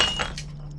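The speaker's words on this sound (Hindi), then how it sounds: "कांच का टूटना तो शुभ होता है" A glass shatters during a family gathering in a Hindi film scene, a brief bright crash and clink with a quieter tinkle of fragments trailing off over a low steady hum.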